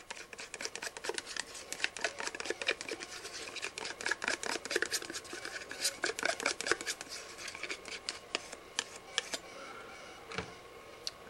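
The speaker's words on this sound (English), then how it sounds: "So I'm going to mix my silicone up here. Part A, part B, mix it together." Two-part silicone being mixed by hand for a dental implant soft tissue model, a dense run of quick scraping, ticking and rubbing strokes, close and steady, with no talk.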